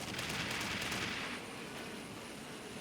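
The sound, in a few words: gunfire in the video game F.E.A.R. Perseus Mandate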